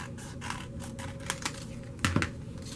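Scissors snip through folded paper for a paper flower: a handful of short, crisp cuts close by, with a firmer double snip near the end.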